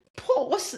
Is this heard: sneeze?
yes